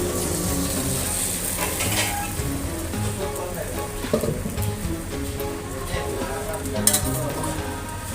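An egg fries in oil in a pan, giving a steady close sizzle and crackle throughout with a few sharper pops, and no talking over it.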